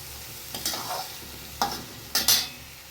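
Leafy greens tossed into a frying pan for a shak chorchori are stirred, giving several close scraping, rustling strokes of uneven spacing over a low sizzle.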